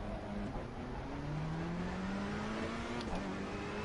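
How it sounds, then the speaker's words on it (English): Racing car engine in Assetto Corsa Competizione on PS4 at Donington, a steady droning whine that rises gradually in pitch as the car accelerates, continuous and fairly quiet without talk. "Does the car still sound overpowering over my voice?"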